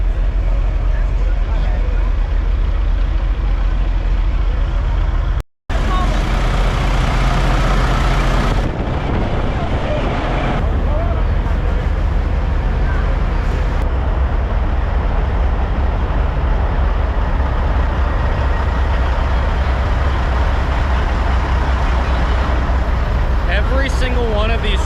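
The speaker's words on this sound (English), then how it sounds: "Every single one of these trucks right now is idling, and it's just such a wonderful sound." Several heavily customized semi trucks, including a dump truck with molded fenders, idle together at a show, a deep continuous diesel rumble with shifting layers, loud and close, heard with people talking nearby.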